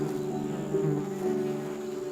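Steady, droning buzz of many stingless mandaçaia bees humming together, a continuous close hum with slight swells in pitch and loudness.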